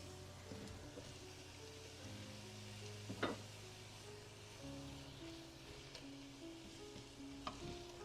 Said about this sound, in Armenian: հիմա կարտոֆիլը վրան կավելացնեմ և իրան շոգեխաշ կանեմ